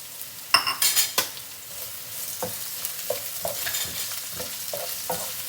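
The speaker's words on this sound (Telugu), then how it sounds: "ఇప్పుడు కొంచెం ఇక్కడ టైం పడుతుంది ఆనియన్ మంచిగా ఫ్రై అయ్యేదాకా" Chopped onions frying in a pan for Andhra-style chicken fry, with a spoon scraping and stirring: several sharp clanks at first, then a steady low sizzle broken by repeated soft scrapes, close and with no talk.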